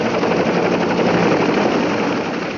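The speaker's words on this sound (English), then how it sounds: "another enemy of the foot soldier has taken to the skies, the attack helicopter" An attack helicopter in flight gives a loud, dense, continuous roar with a fast, even rotor chop. The sound is steady and unbroken, with no voices.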